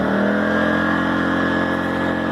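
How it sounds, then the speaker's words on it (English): An AI Power SUA2300i portable inverter generator running at full throttle with eco mode off, a loud steady mid-pitched engine drone heard close and constant throughout. "Let's take eco off so you can hear the full throttle."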